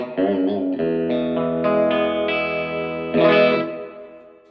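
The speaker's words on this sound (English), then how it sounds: "I'm getting the reverb that you hear from a Strymon Flint pedal" Electric guitar played through a Muleskinner amp with a Strymon Flint reverb pedal, a series of distorted chords and notes ringing out one after another, each struck clearly with a lingering reverb tail, no talking.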